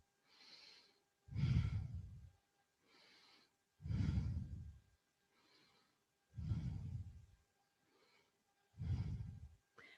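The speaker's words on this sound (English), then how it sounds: "And breathe." Slow deep breaths during a yoga session, five loud exhalations alternating with softer inhalations in a steady rhythm, close and alone in a quiet room.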